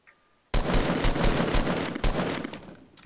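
Rapid gunfire in the video game Fortnite, sniper rifle shots bursting in suddenly after near silence, loud close cracks in a dense volley that tails off toward the end.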